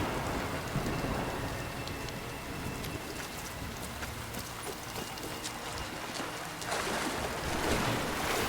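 Steady rain pours down in the video game Rise of the Tomb Raider, a dense hiss of drops on foliage and ground, loud and continuous with a swell near the end and no voices.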